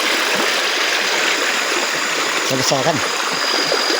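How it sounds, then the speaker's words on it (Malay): River water rushes steadily over rocks in a loud, continuous flow, with someone speaking briefly over it partway through. "Kita dengar dia punya bunyi air pun sudah syok"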